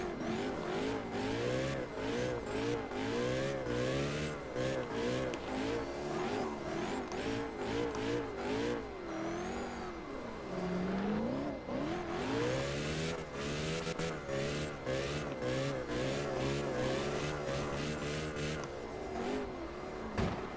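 A Mustang revving hard while drifting in CarX Drift Racing, its engine note rising and falling continuously with squealing tires, loud and close throughout with only brief dips between surges.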